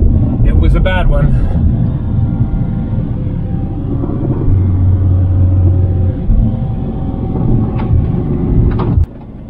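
Steady, loud road rumble from inside a car driving along a road near Breitenbush Hot Springs in Oregon, a continuous low drone with a few clicks and knocks, ending in a sudden drop.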